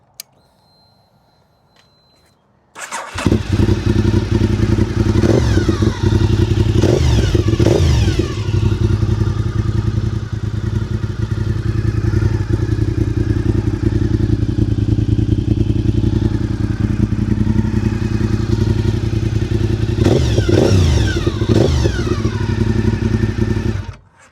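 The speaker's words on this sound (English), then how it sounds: "So we'll do a startup video of this bike." A Honda RC51 motorcycle engine fires up after a brief quiet moment, then idles loudly and steadily with several sharp revs rising and falling, close by.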